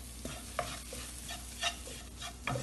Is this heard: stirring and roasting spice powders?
yes